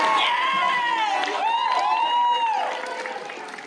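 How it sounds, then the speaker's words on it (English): At a lip sync contest, an audience claps and cheers with rising whoops and shouts for a door volunteer, loud at first and then tapering off. "I would like to get a round of applause for Michelio"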